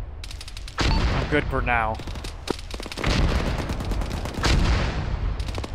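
Heavy gunfire and machine-gun bursts in an Arma combat mission, loud and dense, with a distant explosion under the shooting and someone talking briefly over radio chatter.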